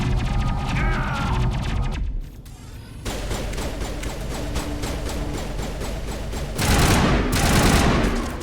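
Assault rifle fire in Mass Effect rattles in rapid sustained bursts, loud and close, with a short pause before the shooting resumes and a heavier, denser volley near the end.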